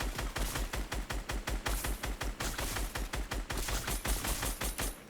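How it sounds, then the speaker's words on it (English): Steady rhythmic video game gunfire fired at a zombie, loud rapid evenly spaced shots in a continuous volley, with no talking. "zombie pops out and you shoot it"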